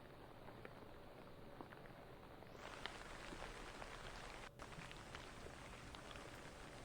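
Steady rain heard from indoors, a soft, muffled wash of patter that thickens slightly partway through, with no voices.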